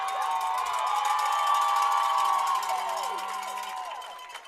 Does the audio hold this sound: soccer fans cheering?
yes